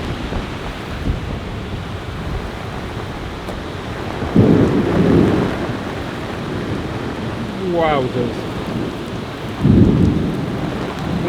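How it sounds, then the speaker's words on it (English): A thunderstorm roars outside a camper: heavy, steady rain drums throughout while several deep rumbles of thunder roll in, including a sharp nearby crack, and a person briefly exclaims. "This quick storm is not quick anymore."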